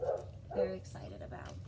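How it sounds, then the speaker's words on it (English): A neighbor's dog in the apartment above barks a few times in the background while a person talks over it at the same level. "I'm sorry if you hear the barking."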